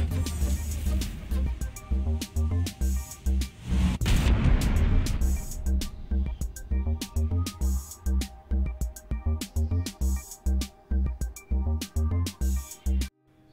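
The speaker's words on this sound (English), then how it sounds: "And we are shooting two size 9 torpedoes." Torpedo strikes on the Aquila ship in a space combat game: a heavy burst of rumbling explosion near the middle, surrounded by a long run of rapid, evenly spaced booming impacts that continue to the end.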